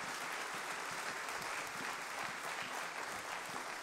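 Church congregation applauding strongly, a thick even roar of many hands clapping that holds steady throughout, with faint voices buried in the noise.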